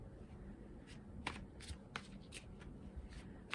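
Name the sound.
shuffling tarot cards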